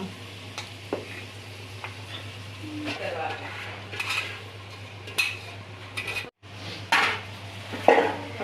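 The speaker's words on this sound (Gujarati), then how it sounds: "ભાત નાખી દીધું હવે હલાવી દઈશું" A spoon scrapes and clatters against a cooking pot while cooked rice with peas, cinnamon and cloves is stirred for pulao, in irregular close knocks over a steady low hum with brief pauses.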